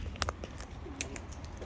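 Pigeons coo softly while feeding after three days without food, a few low burbling calls mixed with brief flutters and pecking sounds nearby.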